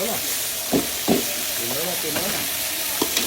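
Garlic, onion and ginger sauté for tinola in a loud, steady sizzle, with a few clanks from stirring and someone talking over it.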